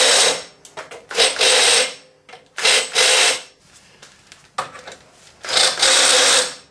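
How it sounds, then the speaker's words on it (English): A cordless drill with a countersink bit deburring holes whirs in short bursts, spinning up and stopping several times, with quiet pauses and faint handling noises between runs. "I've got a cordless drill with a countersink in"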